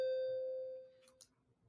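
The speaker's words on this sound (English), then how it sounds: "the doorbell rang there" A single electronic doorbell chime rings clearly and decays over about a second, followed by faint clicks and quiet room noise.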